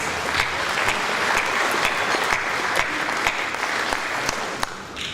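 Sustained applause fills a sports awards ceremony, steady dense clapping from a large audience continuing throughout without pause.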